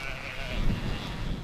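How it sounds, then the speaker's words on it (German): A sheep on a farm near Rostock, where sheep and goats are raised for fine wool, gives a single brief bleat over low background rumble. "züchtet ihre Schafe und Ziegen hier wegen der feinen, edlen Wolle"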